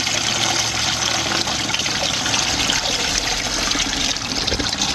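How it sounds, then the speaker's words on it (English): Clay-and-water slurry being poured off from a bucket, a steady close trickling and splashing of liquid that runs continuously without pause, with no talk over it. "we're simply pouring that clay and water solution off"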